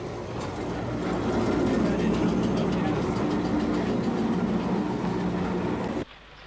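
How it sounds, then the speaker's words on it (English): A Fairburn 264 tank locomotive hauls dreadnought coaches into a bay platform, a steady rumbling roll with faint rhythmic clatter that holds close and loud, then drops off abruptly near the end. "Here, a Fairburn 264 tank brings a train of dreadnought coaches into the bay platform."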